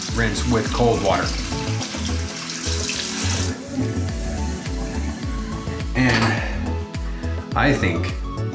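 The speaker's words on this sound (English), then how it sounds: "and then rinse with cold water" Cold tap water runs steadily into a sink as a face is rinsed after a close double-edge safety razor shave, a continuous near splashing flow with brief bursts, mixed with background music.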